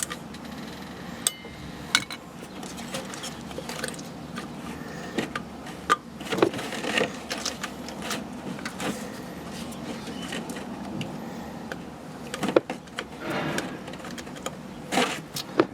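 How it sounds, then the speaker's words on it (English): A ratchet clicks in irregular bursts as it snugs down ignition module screws on a 1992 P30 RV chassis with a TBI 454, with scattered metallic clinks and taps from work close at hand. "We'll hook a ratchet on here like this and crank down on them."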